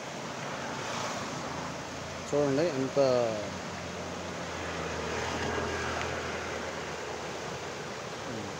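Rainwater from 45 minutes of nonstop heavy rain rushes through drainage channels in a steady, broadband roar, with someone talking briefly near the start.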